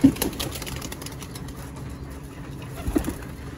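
Pigeons in a loft feeding and drinking water, soft cooing and faint fluttering with a couple of sharper bursts at the start and near the end, close but fairly quiet over a steady background.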